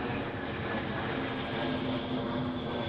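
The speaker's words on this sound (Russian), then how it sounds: "Самолет." Airplane passing overhead at a dog training school, a steady broad engine roar with a low drone held evenly throughout, fairly distant and without voices.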